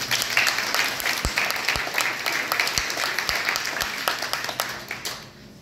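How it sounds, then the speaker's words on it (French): An audience at the opening of a new Aldi store in Vagney claps for several seconds. The clapping is moderately sized and close, with distinct individual claps standing out from the patter before it fades at the end. "On peut les applaudir aussi."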